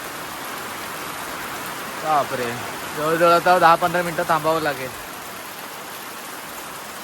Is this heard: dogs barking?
no